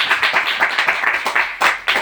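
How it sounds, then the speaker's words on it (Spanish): Audience applause at a book presentation in a bookshop, a crowd clapping steadily with rhythmic bursts that swell again near the end, close and fairly loud. "un aplauso para Javi, que se ha venido desde Madrid a la presentación."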